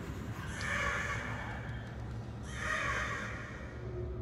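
A crow cawing in the video game Murdered: Soul Suspect, two raspy calls a couple of seconds apart, fairly faint over a steady background hum.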